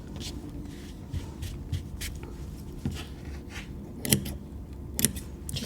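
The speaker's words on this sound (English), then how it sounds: "I think there's something stuck to my scissors that's stopping them closing." Scissors snipping the ends of yarn feathers, a few quiet, close clicks and cuts spread over faint handling rustles, with one or two sharper snips.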